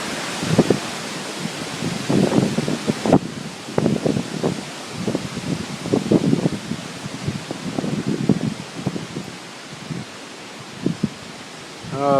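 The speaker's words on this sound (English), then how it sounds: "Looks like we got a good wind gust coming here." Storm wind gusting through trees, rushing and rustling in irregular surges that rise and fall, with low wind buffeting on the microphone underneath.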